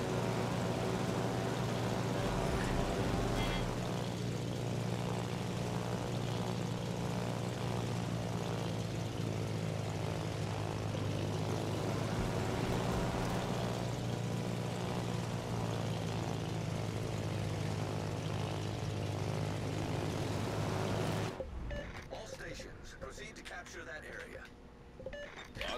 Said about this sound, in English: I think all my planes are coming back.